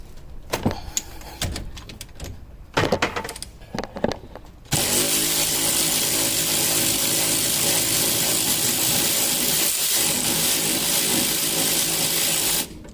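A power tool spins loose the lower sway bar link bolt on a 1995 Mercedes W140 S500, starting with a few short clanks and tool handling before a long, loud, continuous whirring run that cuts off at the end.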